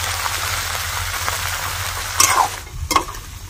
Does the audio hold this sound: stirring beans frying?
yes